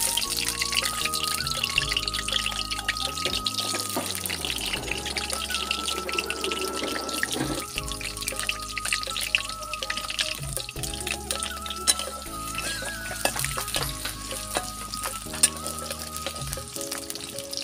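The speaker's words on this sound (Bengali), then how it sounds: "আলুগুলো দিয়ে আলুগুলো একটু ভেজে নেব।" Potato pieces frying in hot oil for a cauliflower curry, with a steady crackling sizzle running throughout alongside clinking, stirring and kitchen clatter, no voices.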